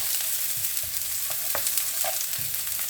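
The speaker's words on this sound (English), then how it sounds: "You can hear it sizzling already, which is great." Onions fry in a properly preheated hot pan, giving a steady, quiet sizzle with soft crackles and occasional stirring clicks throughout, no voices.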